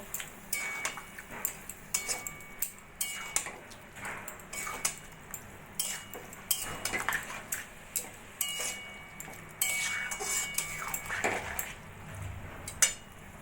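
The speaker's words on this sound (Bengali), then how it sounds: "দিয়ে এবার ভালো করে আমি তরকারির সঙ্গে মিশিয়ে নেবো" Mustard and poppy seed paste being mixed into a bottle gourd greens curry, a spoon scraping and clinking against the pot in an irregular rhythm of close, distinct taps.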